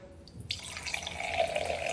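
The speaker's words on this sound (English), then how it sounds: "I'm about to pour in this wine glass so I can take pictures." Wine poured into a wine glass: a soft, close liquid trickle begins after a brief pause and flows steadily and faintly to the end.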